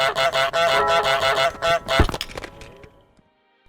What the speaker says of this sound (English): One of Goose Game's key features is the ability to honk at people